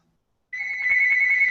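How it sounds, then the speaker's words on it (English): Mobile phone ringtone starting abruptly after a moment of silence, a bright steady electronic tone ringing continuously and close, with no talk. "Hang on, my phone's ringing."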